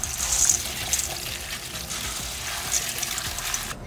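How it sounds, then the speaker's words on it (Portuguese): Dry beans are rinsed in water in a home kitchen, a close, continuous splashing and trickling wash with small sloshes and no talking. "Nós lavamos nosso feijão,"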